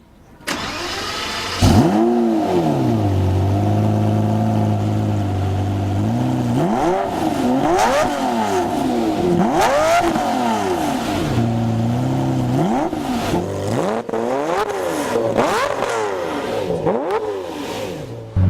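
A Lamborghini Murcielago LP640 with a 6.5-litre 640-horsepower V12 fires up, then revs repeatedly in loud, close rising and falling sweeps over a steady idle, with several quick blips toward the end.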